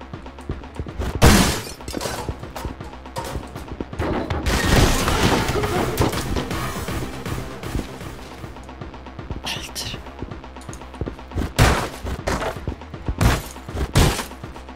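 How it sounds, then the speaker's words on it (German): Shotgun blasts in the first-person action game Anger Foot: several sharp, loud booming shots at irregular intervals over a dense, busy bed of game music and effects. "ein Schuss. Das war, glaube ich, mit der Schrotflinte."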